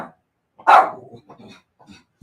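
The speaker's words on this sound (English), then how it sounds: "Okay, Ray, no barking" A dog gives one loud, close bark followed by a few softer, trailing yips and grumbles in otherwise quiet surroundings.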